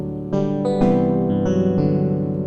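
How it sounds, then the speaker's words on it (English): A sustained synthesizer chord with changing notes, wrapped in a spacious reverb tail that smears each change into the next; loud, steady, no voices. "Let's add a little bit of reverb here."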